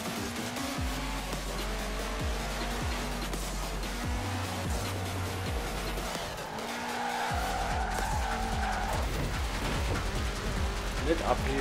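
In the Forza Horizon 4 racing game, a car drives and skids through mountain hairpins, its engine droning and revving with repeated tire squeals as it slides through the turns, loud and continuous with a voice speaking over it.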